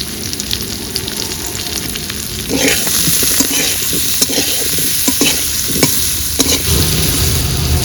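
Potato pieces seasoned with salt and turmeric fry in a pan for a Bengali hilsa-head and Malabar spinach curry, giving a steady close sizzle with repeated clattering stirs growing busier after the first few seconds.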